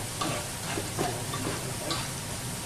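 Chopped garlic stirred in water in a cooking pan for tomato rice. A soft, steady simmering bubble runs under faint irregular clicks and scrapes of the stirring spoon.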